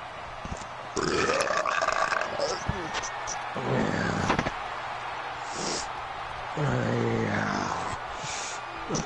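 A person burps loudly several times in a row, with long, rumbling belches separated by short pauses and mixed with talk and laughter.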